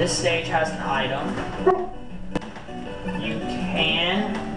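An indoor pet dog yips, barks and whimpers close by in a continuous, restless string of high cries, mixed with background game sound.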